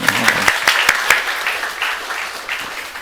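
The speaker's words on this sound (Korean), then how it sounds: "박수로 감사합니다" A congregation applauds during a Sunday church service, a burst of close, dense clapping with some sharp individual claps, fading slightly toward the end.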